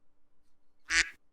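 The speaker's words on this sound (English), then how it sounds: "that sounded like the quack" A duck quack sound effect, a single short raspy nasal quack, loud and close, standing alone against near silence with no talking over it.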